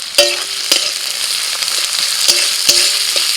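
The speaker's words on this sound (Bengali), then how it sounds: "এবার পেঁয়াজ আর কাঁচা লঙ্কা ভেজে নেব।" Onions and green chilies fry in oil in a pan (kadai), a loud, close, steady sizzle broken by several sharp clacks of a spatula stirring against the metal.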